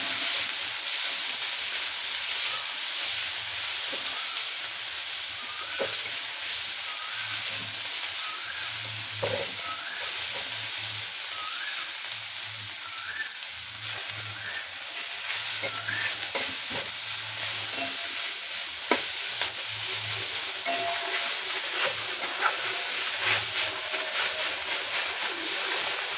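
Moringa leaves fry in a pan with a continuous close sizzle, while a utensil scrapes and stirs in a repeated rhythm through the whole stretch.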